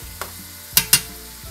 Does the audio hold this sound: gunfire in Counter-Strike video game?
no